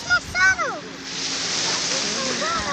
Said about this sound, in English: And the waves are hitting pretty hard.